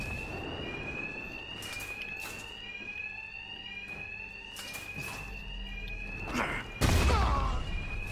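A fire alarm in Batman: Arkham Knight rings continuously in steady repeating electronic tones, loud and close, while thugs are around. A heavy thump lands near the end.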